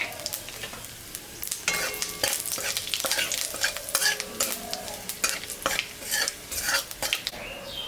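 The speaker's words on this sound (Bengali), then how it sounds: "জিরা শুকনো লঙ্কা সম্বরা দিয়ে দিলাম" Cumin and dried chillies tempering in hot mustard oil left over from frying fish, heard as bright crackling sizzle under rhythmic metal spatula scrapes and clinks against the kadai, close and without speech.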